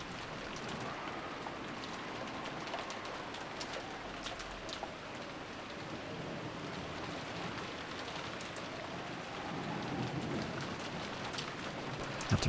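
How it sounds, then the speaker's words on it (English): Steady rain falls in the game Umineko no Naku Koro ni, a soft continuous hiss of drops on surfaces with scattered sharper patters, quiet and unbroken throughout. "disappeared beneath the sound of the rain"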